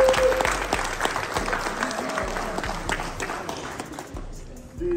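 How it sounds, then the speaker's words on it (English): A banquet crowd applauds varsity and JV football players with steady, fairly close clapping that thins and fades toward the end, while voices murmur underneath. "So if I could just have you give them a round of applause"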